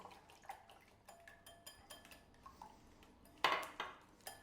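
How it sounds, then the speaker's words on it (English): A whisk beating eggs in a bowl for an apple cake batter, quick quiet rhythmic taps and clicks against the bowl, with one louder clatter near the end, close and faint with no talk. "I'm just going to use the same whisk and just start to break up those eggs"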